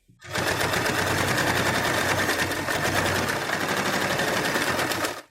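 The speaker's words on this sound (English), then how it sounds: "I'll sew a straight line right on the white side of the fabric" Sewing machine running a steady straight stitch through white fabric for a headband, loud, continuous and close, starting and stopping cleanly with no talk.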